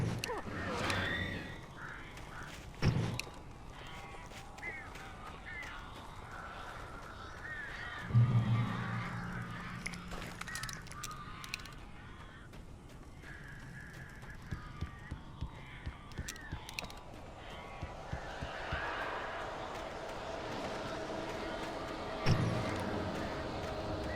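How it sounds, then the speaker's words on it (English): Eerie birds cawing in the horror video game Alan Wake Remastered, scattered harsh caws over a dark ambient bed with thumps and a few sharp knocks, and a voice speaking briefly. "This isn't normal. These birds are weird."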